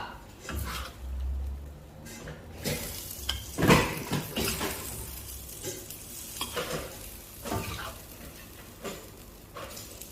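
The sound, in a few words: squid (sotong) frying in a pan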